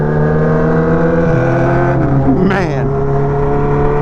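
Kawasaki ZX14R motorcycle engine holds a steady loud drone, then briefly revs and drops as a Pingel electronic quick shifter clicks through a gear, with someone talking over it.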